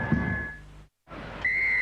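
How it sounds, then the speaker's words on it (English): A referee's whistle at a 1978 Kiwis versus Kangaroos rugby league test restarts play for the second half, with a short shrill blast at the start and a longer, louder one near the end over crowd noise. "And the referee gets them away for the second half"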